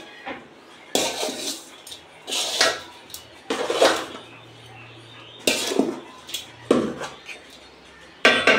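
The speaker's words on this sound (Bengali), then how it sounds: "এবার একটু নেড়ে দেব।" A utensil scrapes and knocks against a large pot of mutton biryani in intermittent bursts of clanking and scraping. Quiet gaps fall between the stirs.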